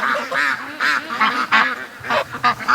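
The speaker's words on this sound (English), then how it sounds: "Ducks everywhere." Farmyard ducks quack and geese honk loudly in a dense, overlapping chorus of repeated calls, close by and excited, with no talk over them.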